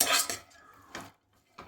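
A metal spoon scrapes and clinks against a thick, heavy steel pot while stirring lentils with drumstick leaves, three short bursts close up with quiet gaps between.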